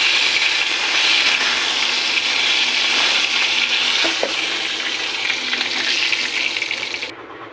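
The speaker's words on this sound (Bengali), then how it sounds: "এবারে কড়াইতে মাছ দিয়ে দিয়েছি, এই মাছগুলো ভেজে নেব।" Silver carp pieces fry in oil in a wok, with a loud, dense, continuous sizzle up close for several seconds that eases slightly near the end.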